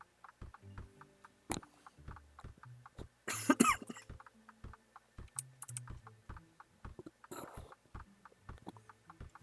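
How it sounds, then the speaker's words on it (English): Several short coughs from a gamer sitting near the microphone, scattered over steady computer keyboard typing and clicking, with a louder burst of coughing partway through and no talking. "I apologize if the coughing's coming through."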